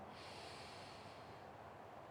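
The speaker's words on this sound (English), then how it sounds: "Inhale through the nose." A slow, steady inhalation through the nose during a calm breathing exercise, heard alone as a soft, continuous airy rush that gradually fades.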